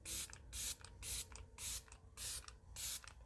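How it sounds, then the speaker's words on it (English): Setting spray misted onto a face in six short, crisp bursts, evenly spaced about half a second apart, close and fairly quiet with no talking. "I'm trying out this setting spray"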